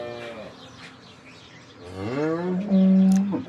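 Cows on a dairy farm, some pregnant or recently calved: a faint low moo early on, then a loud, close moo that rises and holds before breaking off.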